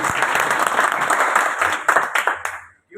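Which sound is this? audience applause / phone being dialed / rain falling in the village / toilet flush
audience applause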